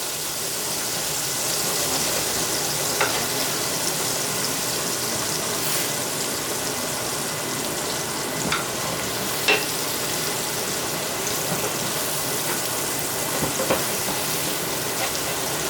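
Browned bits are scraped from a hot pan after turkey broth mixed with starch is added, a loud, continuous sizzle and bubbling that lasts throughout, with occasional scrapes and knocks of a utensil against the pan.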